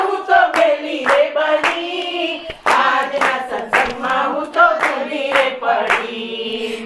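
Steady rhythmic hand clapping keeps time with group singing of a Gujarati devotional bhajan at a satsang gathering, the claps sharp and close over the voices.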